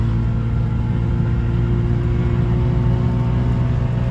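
A two-stroke microcar engine drones and rumbles steadily while driving, a loud, constant low buzz heard from inside the car with no voices.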